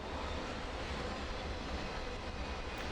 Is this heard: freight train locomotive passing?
yes